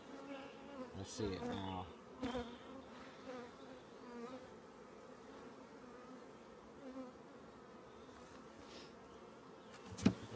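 Wild honey bees from a bee tree swarm around their hive, a dense steady buzz of many insects close by, with a few louder passes and knocks and a brief spoken remark.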